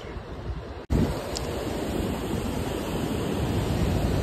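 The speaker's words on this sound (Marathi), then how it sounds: "पाण्याचे आवाज येणार आहे ना" Water rushes through the open gates of Girna dam near Nashik, a loud, steady broadband roar heard close and alone after a brief cut.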